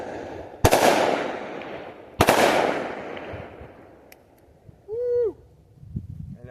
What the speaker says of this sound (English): Not as much bark as I thought from a big bad 357 mag 2-inch snubby